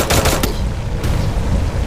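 Bursts of gunfire in a squad-mode shooting video game, a rapid automatic volley in the opening half-second followed by a sharp single shot, over steady game ambience.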